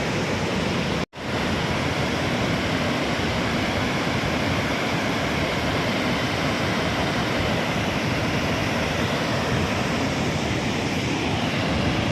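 Roughly 50,000 cusecs of water released from Linganamakki dam reservoir in Shimoga district roar in a loud, constant rush that fills the whole clip, broken only by a momentary dropout near the start.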